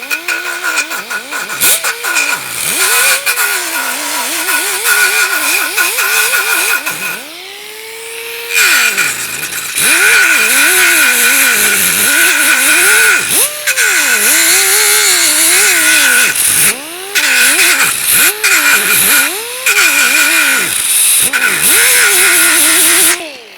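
A pneumatic die grinder with a quick-change sanding disc whines and rises and falls in pitch as it grinds bare metal for dent repair, loud and close, with a short pause before it resumes in repeated passes.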